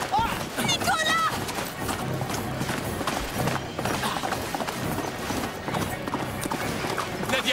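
Horse hooves pound in a steady galloping rhythm from a horse carrying riders in a dramatic chase scene, loud and continuous beneath a busy music-and-effects mix, with brief whinny-like tones near the start.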